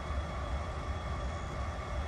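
BNSF 8621 locomotive parked at Manhattan Siding south of Valley Mills, Texas, giving a steady low idling rumble with a continuous broadband hum throughout.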